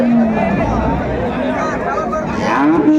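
Sahiwal cows and calves at a busy weekly cattle market in Dinajpur, with one or two low, drawn-out moos rising over a loud, continuous crowd hubbub and nearby talk.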